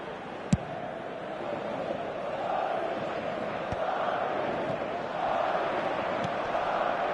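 A stadium crowd roars in a football video game, a broad, distant, continuous wash of cheering that swells slightly in waves, with a few faint sharp knocks.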